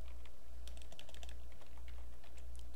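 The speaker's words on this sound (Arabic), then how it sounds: "الان راح نكتب اكزيت" Quick keystrokes on a computer keyboard typing a short command, a brief run of close clicks over a steady low electrical hum.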